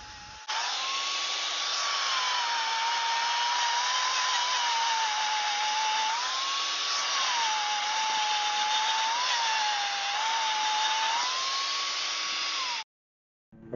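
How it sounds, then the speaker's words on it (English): A power grinder with a 40 grit flapper disc works a boat keel neglected for years, giving a continuous close, loud whine that holds steady for about twelve seconds before stopping. "Ended up using a 40 grit flapper disc"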